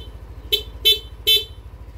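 A stock horn on a non-passing V2 motorcycle gives three short, loud beeps in quick succession over a steady low engine idle.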